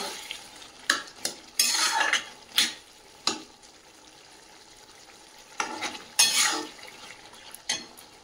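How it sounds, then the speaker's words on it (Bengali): A lid comes off a pot of reduced, simmering curry, followed by a handful of sharp metallic clinks and scrapes spread over a faint, quiet bubbling background, near and sparse. "ঢাকনাটা খুলে দেখে নেব, ঝোলটা একদম কমে এসেছে"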